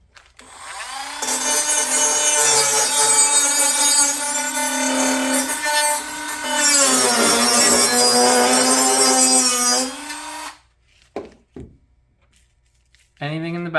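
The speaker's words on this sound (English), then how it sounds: "Dremel's gonna go in the bag with the sandpaper attachment." A Dremel with a sandpaper attachment sanding steel inside a bag: a loud, close high-pitched whine in two long bursts with a brief pause between, then it cuts off into scattered rustles and knocks.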